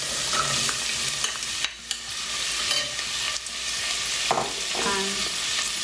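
Carrots and potatoes frying in a pan for carrot soup, a continuous close sizzle broken by scraping stirs and a few brief clatters.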